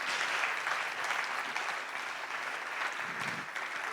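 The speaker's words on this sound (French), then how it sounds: "Est-ce qu'on peut applaudir pour elle?" A concert crowd at the Institut Français du Congo applauds the French ambassador to Congo, dense steady clapping filling the whole stretch at a moderate distance.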